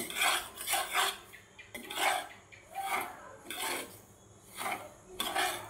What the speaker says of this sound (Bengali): কিছুক্ষণ আমি এইভাবে নাড়াচাড়া করে ভেজে নেব, হয়তো একটু সময় লাগবে।